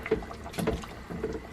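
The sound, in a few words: potato soup being stirred with a wooden spoon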